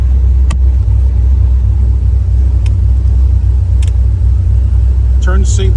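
A 1971 Chevrolet Corvette with an LS5 454 engine rumbles steadily on a test drive, a loud, deep, continuous low drone heard from inside the car, with a few faint clicks and a brief voice near the end.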